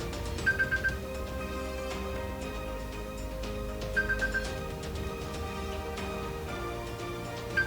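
A phone rings nearby during fly tying at a workbench, short bright electronic ringtone bursts repeating every few seconds over a low steady background, no voices.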